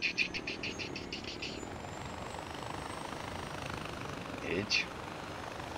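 A helicopter flies in the video game Far Cry 4, giving a steady rotor whir and engine drone throughout, with a brief spoken syllable near the end.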